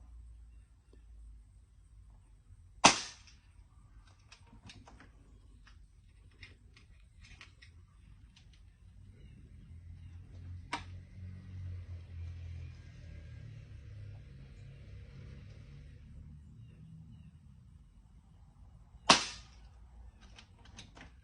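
Air Venturi Avenger air rifle shots, two sharp loud cracks about sixteen seconds apart plus a fainter pop between them, over a low outdoor rumble with quiet background sound.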